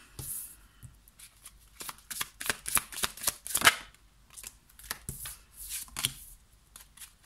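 Tarot cards are shuffled by hand in a run of crisp, papery riffles and flutters, sometimes clustered and sometimes spaced apart, fairly close and fairly soft, with nobody talking.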